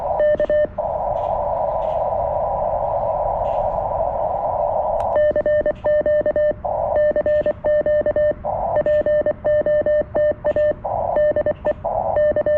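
CW Morse code keyed on a CFT-1 ham radio during a portable park activation: a steady sidetone of dots and dashes, first a long held tone and then rapid rhythmic keying, clear and up close with no talk.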